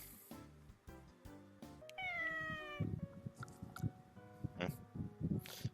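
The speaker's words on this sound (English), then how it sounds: "this is the cat" In the visual novel Akatsuki no Goei, a cat gives one clear, drawn-out meow, quiet and close, set against soft background music.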